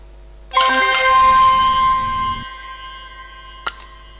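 A loud, bright bell-like video game reward chime for the Ultimate Orb, layered with a low buzzing tone that holds for about two seconds, then a lingering ringing tail and one short faint ding, heard alone.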